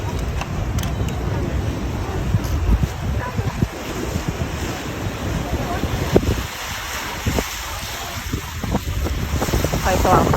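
Steady sea wind buffets the microphone by the waterfront at an evening seafood night market on Koh Larn, a constant broadband rush with occasional knocks and people talking nearby.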